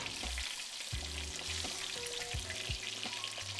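Catfish pieces fry in hot oil, a constant crackling sizzle, while the pieces are flipped in the pan, adding a few low knocks and scrapes of utensil against cookware.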